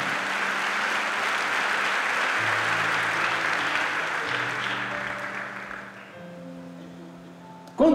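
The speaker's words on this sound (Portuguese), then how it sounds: "Quem crê, dê uma salva de palmas a Jesus Cristo." Congregation applause at a church service fills the space with dense, steady clapping while sustained organ or keyboard notes play underneath, the applause tapering slightly toward the end before a sudden loud burst.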